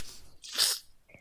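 A single sharp sneeze plays through speakers, a brief loud burst preceded by a short breathy intake, in an otherwise quiet room.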